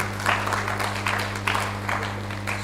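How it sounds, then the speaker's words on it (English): Audience applause at a national public speaking competition semi-final, steady clapping from a crowd in a hall with a constant low electrical hum underneath, sustained throughout. "Let's give a round of applause."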